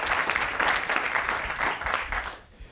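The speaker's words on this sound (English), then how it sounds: "So a little round of applause." An audience at a smart cities institute launch event gives a short round of applause for a panelist, brisk clapping fairly close that fades out toward the end.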